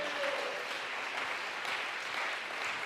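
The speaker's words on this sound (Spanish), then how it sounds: "Denle ese aplauso al Señor esta noche." A church congregation claps at an evening service, steady, dense applause that stays fairly distant and even for a few seconds.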